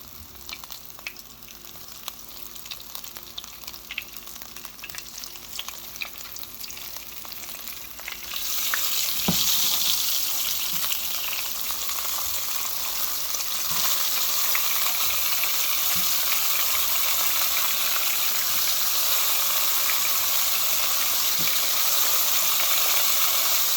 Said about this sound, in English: Make sure that once you're pan frying them, that everything is as flat down as possible.